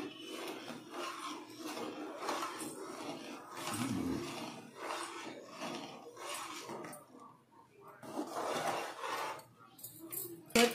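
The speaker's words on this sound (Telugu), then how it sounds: "రవ్వ వేస్తున్నానండి." Ghee-roasted semolina poured into a pan of upma, giving a soft rasping and scraping sound with stirring. The sound is moderate and continuous for about ten seconds.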